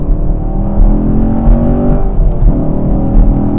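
A 2021 Camaro SS 1LE V8 with a six-speed manual rumbles loud and steady from inside the cabin, its deep engine drone rising slightly as it pulls, with no talking.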